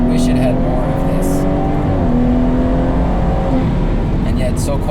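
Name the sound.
modified 2018 BMW 340i engine revving, catless downpipe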